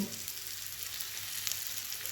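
Cut tomato pieces go into fried onion and spices for a spicy semolina pulao, giving a constant close sizzle and light crackling with a small clink near the end and no speech.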